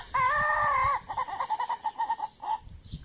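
A Ketawa rooster, the laughing breed, gives a short strained crow and then a run of rapid, choppy pulses like laughter. The call is close and clear against a quiet background.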